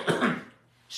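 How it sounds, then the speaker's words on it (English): A single short, husky cough from an adult man recovering from COVID, close and moderately loud, followed by a brief quiet gap. "I have a little cough still"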